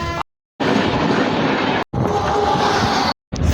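An EMU local train in India, running as the Toofan service, rumbles loudly and steadily with dense wheel-and-track roar, cut by several brief silent gaps between passages.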